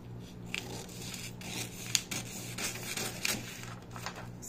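Scissors cut through the paper back piece of a blouse-top sewing pattern, giving soft, close, rasping snips and paper rustles in irregular strokes at low volume.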